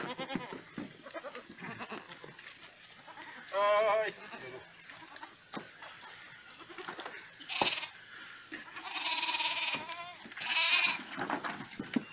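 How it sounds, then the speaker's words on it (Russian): Goats bleat loudly in a farm shed while fighting, several drawn-out cries in bursts near the mic, with quieter rustling and a person talking between them. "Так, с козлом дерутся."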